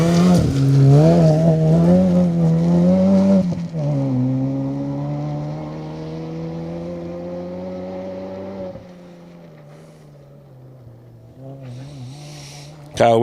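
Rally car driven by Kyle Wilson and Mark Broadbent on a Greystoke Stages forest stage: loud engine revving through gear changes close by, then fading into the distance as it drives away, with a burst of noise at the end.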